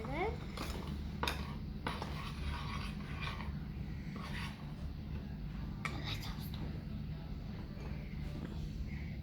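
Play dough mixture being slowly stirred in a bowl, soft scraping and occasional light utensil clinks against the bowl over a steady background hum, with talk at times.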